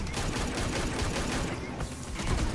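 Rapid gunfire in an Injustice 2 firefight, dense overlapping shots crackling continuously and loudly without letup.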